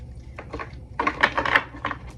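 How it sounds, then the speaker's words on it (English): Large tarot cards are shuffled by hand in a run of soft papery riffles and slaps, a few closely spaced bursts that grow louder toward the middle, with no voices. "They're just the hardest for me to shuffle, but I really do love these cards."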